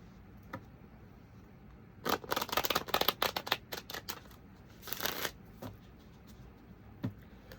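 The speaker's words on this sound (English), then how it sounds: "Let's get some tarot and we'll clarify these cards here real quick." Tarot cards being shuffled, a burst of rapid riffling flutters in the middle followed by a second shorter riffle, with a few soft single card taps around them and no talking.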